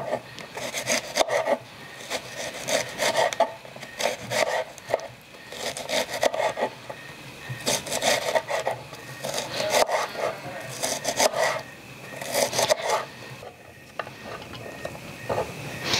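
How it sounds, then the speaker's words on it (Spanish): Knife chopping an onion on a cutting board in a home kitchen, producing quick rhythmic bursts of scraping, rasping cuts that pause briefly and resume steadily, close and fairly loud. "yo voy a ir cortando esta cebolla."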